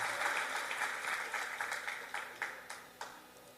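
A church congregation at a Sunday family service claps together in a warm burst that gradually thins out, leaving a few distinct, separate claps trailing off at the end.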